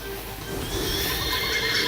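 A horse from the Miitopia video game neighs in a short whinny, loud and close, with no talking over it.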